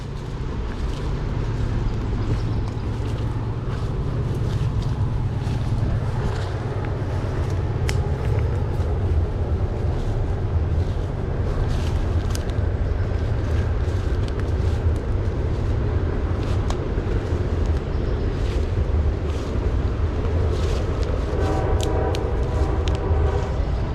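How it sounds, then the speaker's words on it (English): A freight train rumbles past on tracks about 500 yards away behind forest trees, a loud, continuous low roar with rattling that persists throughout, heard from a wooded spot during a morel foraging outing. "those freight trains are just roaring"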